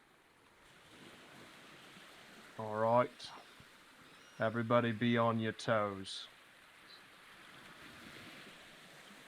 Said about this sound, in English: To the west, the distant sound of sloshing waves echo up from a hole